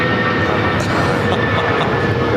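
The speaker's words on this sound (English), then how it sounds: "1260 taking off to Denver on the 757-300" United Airlines Boeing 757-300 taking off for Denver, a loud continuous jet engine roar with broadband rumble, steady through the short stretch, no talk.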